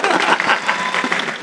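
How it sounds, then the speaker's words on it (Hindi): A live audience at a Hindi poetry recital claps loudly for the host, a short burst of dense, close applause filling the whole moment without speech. "तालियां बजाओ"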